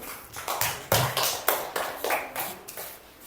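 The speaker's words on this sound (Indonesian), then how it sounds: "tepuk tangan" Children in a classroom clap in unison, about ten crisp, close claps in an uneven rhythm over a few seconds, with no talking.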